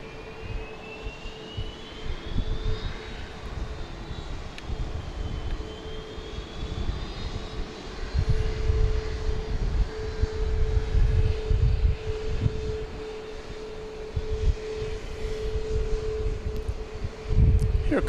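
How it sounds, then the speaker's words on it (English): A Southwest Boeing 737 MAX 8 jet at Dallas Love Field at night, its engines whining and roaring steadily at middle distance. A constant tone and wind noise sit underneath, and an air traffic radio voice talks over it. "Here comes flight 2431. It's going to San Diego. This will be a MAX 8."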